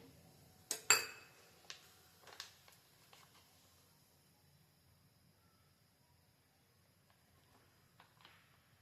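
A metal frying pan (bānali) is set down on a home kitchen stove with a couple of sharp clanks, then a few faint clinks and light scrapes fade into near silence.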